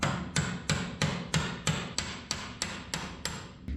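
A hammer striking to drive a bushing sleeve out of a 1980 square body truck frame: eleven sharp metallic blows at an even, steady pace, close and loud.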